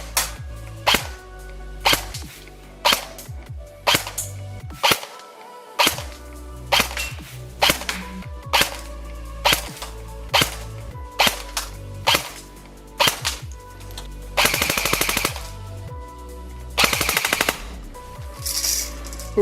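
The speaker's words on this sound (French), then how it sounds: "Test de tir d'un MP5 de chez Golden Eagle." A Golden Eagle MP5 M-LOK airsoft electric gun fires a series of short test bursts and single shots, each a sharp mechanical clatter separated by pauses, with a couple of longer hissing bursts near the end.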